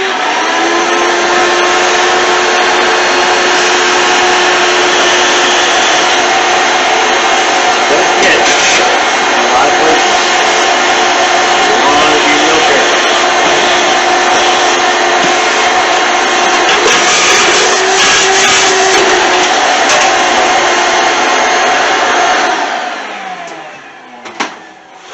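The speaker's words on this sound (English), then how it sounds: "I'm going to plug in my shop vac, and we'll clean that up a little bit" A shop vac runs steadily at close range for about 23 seconds, with a loud, continuous motor whine and rushing airflow, then powers down and goes quiet near the end.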